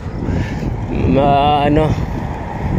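Wind blows steadily in a rumbling, gusty wash near the sea during a morning bicycle ride, filling the whole clip, with a voice speaking briefly in the middle.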